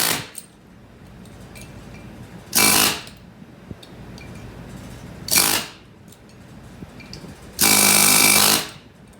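An air chisel hammers at a front wheel bearing race on a two-wheel-drive Ford Ranger, three loud rattling bursts, the last and longest near two seconds, separated by quiet gaps with faint workshop noise.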